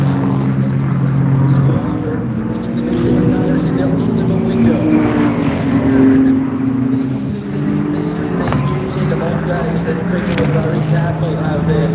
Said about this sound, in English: the Paul Miller car takes it away.